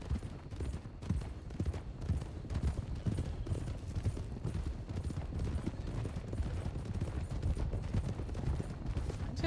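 A horse canters in the Red Dead WildRP roleplay game, its steady, rapid hoofbeats running continuously through a dense, busy game mix with no clear pause.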